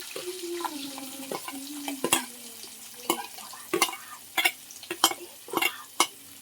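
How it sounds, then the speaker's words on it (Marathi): Onion and green chili tempering in hot oil with curry leaves, mustard seeds and cumin: a continuous sizzle broken by repeated sharp scrapes and clanks of a spoon stirring the pan, close and fairly loud. "फोडणी देतोय आपण आता."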